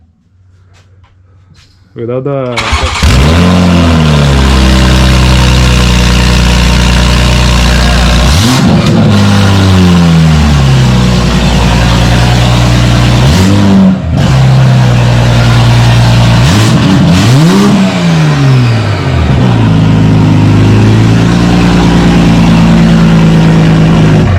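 A Mk5 Toyota Supra engine with its downpipe removed revs hard and loud, rising and falling in repeated surges with a raw, throaty roar between steady high idle.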